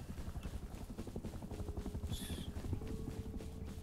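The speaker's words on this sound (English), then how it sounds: "There's a helicopter." A helicopter in the video game Rust thrums with a rapid, steady rotor chop at moderate distance, a continuous pulsing low beat with a faint brief tone above it.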